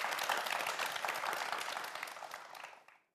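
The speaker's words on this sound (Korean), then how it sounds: "두 학생 모두에게 큰 박수 보내주시기 바랍니다" Studio audience applauding two students on a TV quiz show, a dense, loud burst of clapping that holds steady and then fades out quickly at the end, with no voices over it.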